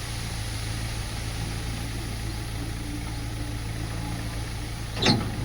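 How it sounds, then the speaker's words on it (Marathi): A tractor engine runs in a wheat field as it is brought in to gather the crop, a faint, steady low drone in the distance, broken by a brief rustling knock near the end. "इथे आपण ट्रॅक्टर तो आणून एका ठिकाणी गोळा करत आहोत"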